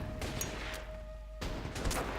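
Infantry gunfire against an anti-air gun in the WW2 strategy game Order of Battle: a few quick distant bursts and cracks over a faint steady background hum.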